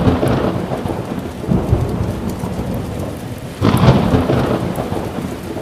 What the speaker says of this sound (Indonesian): Geluduk.